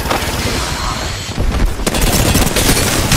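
Dense, loud gunfire in a video game firefight, rapid overlapping bursts and booms forming a continuous barrage with no pause.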